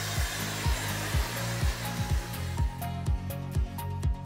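A Dyson Supersonic hair dryer blows steadily and close while hair is dried, a loud airy whoosh broken by regular rhythmic thumps and dips as fingers push through the hair.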